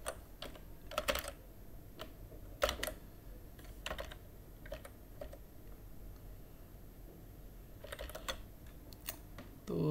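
Someone types on a computer keyboard close by, with soft, steady key taps and a few louder bursts of quick strokes over a quiet room hum.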